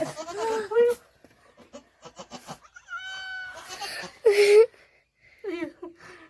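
Several goat bleats, some loud and close, others softer and wavering, come from a goat on a farm that has just given birth to a kid, with quiet gaps between calls.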